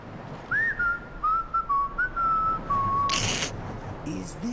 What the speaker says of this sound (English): No, you whistled something.